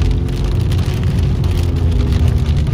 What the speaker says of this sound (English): I just wish my damn car wasn't so loud.